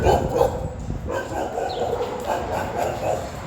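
A dog barks and yips on a city street in Mazatlán, with short repeated woofs close by over steady street noise.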